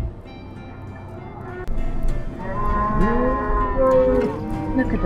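Mother cows in Utah near Zion and Bryce Canyon National Parks bellow at their calves, a long, loud, wavering moo building over a low rumbling background, close by.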